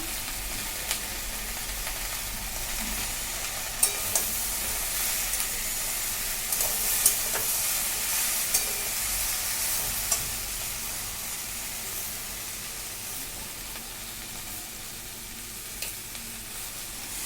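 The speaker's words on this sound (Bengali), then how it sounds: "এটা দিয়ে একটু ভালো করে ভেজে নেব।" Fish head frying in a pan with chopped onion and green chilli, a steady bright sizzle running throughout with occasional clicks of stirring, close and fairly loud, no voices.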